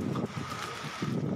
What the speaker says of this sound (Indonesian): Warga merekam saat hujan turun disertai angin kencang di Kecamatan Wai, Jepara, Lampung Timur, Lampung.